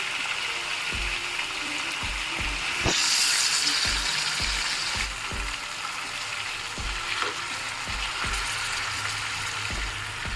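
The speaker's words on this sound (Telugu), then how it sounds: "మొత్తం చేప అన్నింటినీ రెండో వైపుకి తిప్పుకున్నాం ఇప్పుడు అటువైపు కూడా బాగా వేగాలి" Fish pieces coated in green masala fry in hot oil with a steady, close sizzle, punctuated by a series of regular knocks as the pieces are turned. No one speaks.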